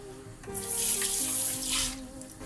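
Water pours from a tap into a kitchen sink while making a creamy squash soup, a steady close rush of running water with no talk.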